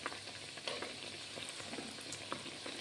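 Balushahi fries in oil over a low flame and is turned, giving a soft, steady bubbling sizzle with faint scattered crackles heard close up and alone.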